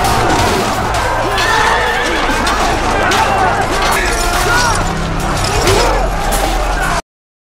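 A large cavalry charge roars past, with horses neighing and hooves pounding under a dense, loud wash of battle noise. A voice talks over it throughout.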